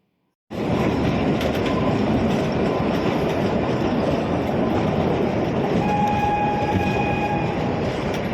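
The Kalka–Shimla toy train on its mountain railway rumbles loudly and steadily along the tracks, starting abruptly and continuing with brief whistle-like tones near the end.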